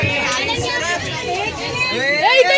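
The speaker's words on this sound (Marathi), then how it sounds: "बघू शकता किती गर्दी झाली आहे." Crowd chatter from people pushing to board a crowded bus before dawn on a trip to the Kokan coast. Close, overlapping voices and babble carry through the whole stretch, with children's voices mixed in.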